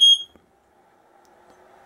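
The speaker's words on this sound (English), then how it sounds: "Apparently, my fire alarms work off of it too." A household fire alarm powered from a 600W inverter lets out one short, shrill beep at the start, followed by near silence and a faint low hum.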